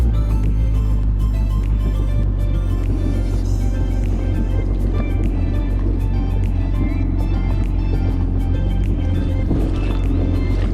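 Kawasaki STX 15F and Ultra LX 160 jet skis idling at a steady drone while their engines warm up, loud and close, with a continuous low rumble and no talk.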